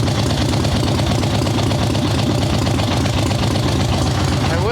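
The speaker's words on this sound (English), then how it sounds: "I will say I do like how low you can set Mikuni carburetors. Nice, low, thumpy idle." Swap meet chopper motorcycle with a Mikuni carburetor idles low and steady close to the microphone, a loud, even, thumping engine rhythm that holds throughout with choke off.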